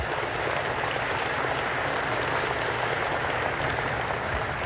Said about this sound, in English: Can we have one more round of applause for these terrific guests?